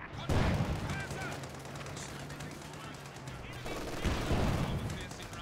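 Gunfire crackles through a video game battle in dense bursts, with a busy mix of distant and near shots and voices shouting over the fighting.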